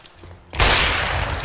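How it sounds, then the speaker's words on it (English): A burst of gunfire in CS:GO erupts after a quiet moment, loud and close, followed by a sustained noisy wash of shots and echo. "we got another perfect shot through the wall"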